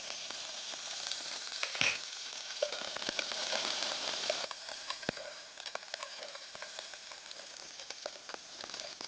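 Shallots, garlic, mustard seeds and green and dried chillies fry in hot oil in a pan, giving a steady, close sizzle with crackling pops throughout.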